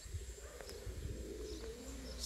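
Aviary pigeons coo softly in the background amid quiet outdoor ambience, a few faint calls rising over a low, steady hum.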